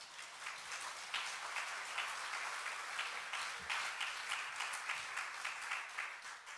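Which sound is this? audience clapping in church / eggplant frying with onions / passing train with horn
audience clapping in church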